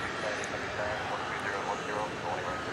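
A Frontier airliner arrives at DFW airport at night, a steady, moderately distant jet engine roar holding evenly throughout with a faint voice talking over it.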